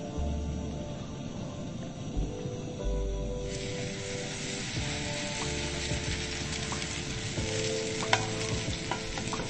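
Potato pancakes sizzle and crackle steadily in hot oil in a pan, a continuous close frying hiss with occasional pops.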